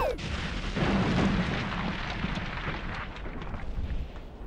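Explosion sound effect in a French audio drama, a heavy booming blast with a sharp onset that rumbles and slowly fades over several seconds, fairly loud and alone.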